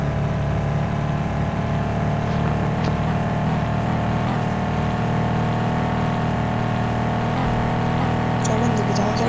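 A ship's engine in a mobile video game, a loud, steady low mechanical drone with a constant tonal hum and slight fluctuations, running unbroken throughout with no voices.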